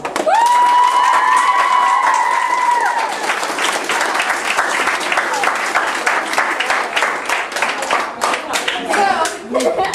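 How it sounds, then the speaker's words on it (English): At a church youth gathering, a drawn-out high whoop rings out first, then a crowd claps steadily and loudly with scattered cheers, the dense applause carrying through to the end. "Now everybody clap."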